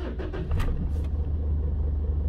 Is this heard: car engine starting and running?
yes